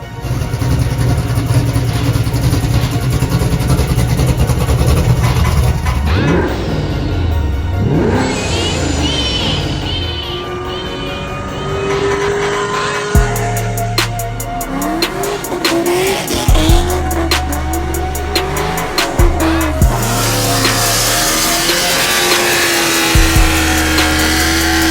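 A truck engine idles with a steady rumble, then revs in repeated loud, close bursts that rise and fall, with no one talking.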